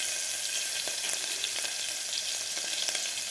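Finely chopped green chilies hit hot butter and oil, giving a loud, continuous sizzle close up with a few faint stirring clicks and no talking.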